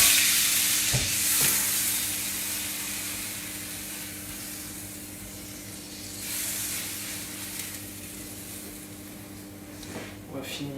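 Squid sizzles in a hot pan in a restaurant kitchen, a steady close hiss with brief louder bursts of crackle, while a voice talks quietly underneath.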